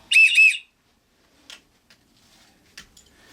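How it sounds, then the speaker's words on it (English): Two quick, shrill blasts from a small emergency backpack whistle, loud and close, followed by faint handling clicks in a quiet room. "And a whistle."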